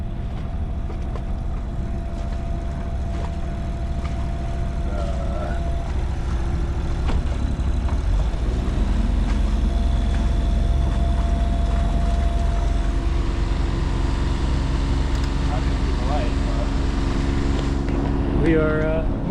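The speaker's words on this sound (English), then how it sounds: "Engines on, moment of truth, gear forward." Boat engines run at a steady low rumble as they are put into forward gear, a continuous loud drone that holds throughout without pauses.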